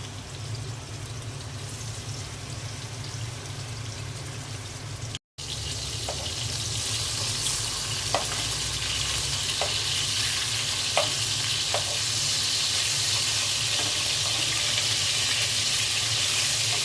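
Rohu fish pieces frying in hot oil in a home kitchen give a steady, close, bright sizzle that drops out briefly and comes back louder, with a few faint clicks and pops.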